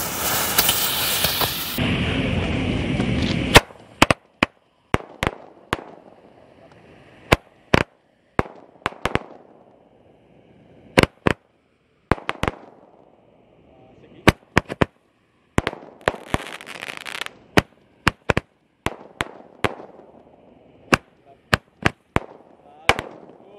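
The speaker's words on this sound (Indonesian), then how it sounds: "Jadi selanjutnya ada 4 Roman Candle, saya jadikan 1." Four Roman Candle fireworks lit together at night, firing a long series of sharp loud pops in irregular bursts, some in quick clusters, with hissing fizz between shots and a short roaring whoosh at the start.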